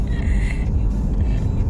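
Steady low road rumble from inside a moving car, a constant engine and tire drone with a faint whine early on and no talking.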